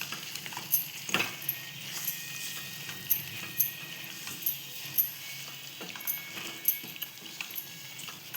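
Coconut and garlic paste sautés in a pan for a prawn curry, a soft steady sizzle punctuated by faint intermittent clicks and taps of stirring.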